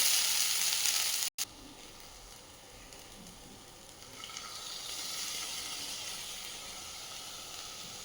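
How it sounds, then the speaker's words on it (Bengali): Rice being stirred in a hot pan while making lemon rice, a soft steady sizzle and hiss with a brief cutout early on, then the frying swells slightly, no voices. "এরপর রাইসটা আমি নাড়াবো এবং হলুদ আর নুন দিয়ে দেবো এর মধ্যে"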